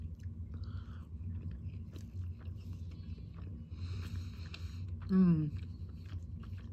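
Someone chews a bite of cheesy waffle close to the mic, soft wet mouth sounds running steadily under a hum, with a brief hummed voice near the end.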